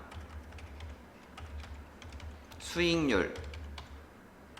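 Quick, light keystrokes and clicks on a computer keyboard while entering spreadsheet formulas, soft and close under a low hum, with a brief spoken word in the middle.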